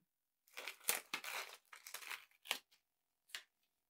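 Heat-transfer vinyl is peeled off its carrier film in short, crinkly bursts of crackling and rustling, close and quiet, separated by brief pauses of silence.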